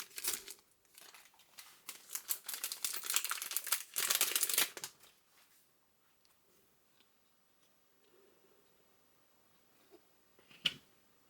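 A Topps Chrome soccer card foil pack being torn open, a burst of crinkling and ripping that fades to faint handling rustles and a sharp snap near the end, quiet and close.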